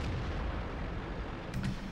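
A tank cannon shot in World of Tanks, a deep booming blast with rumbling low end across the clip and a sharper crack near the end, alone without talk.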